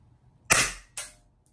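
Two sharp shots from an Umarex Western Cowboy CO2 revolver, close and loud, each with a quick crack and short decay about half a second apart.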